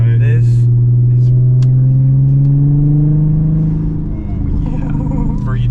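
A Mercedes C320 W203 with a straight-piped exhaust idles loud and close, a deep, steady rumble with a slight rise partway through.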